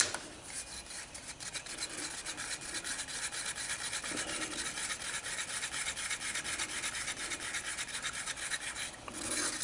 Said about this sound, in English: Scrape the sides, make sure we get the catalyst mixed into all of the resin.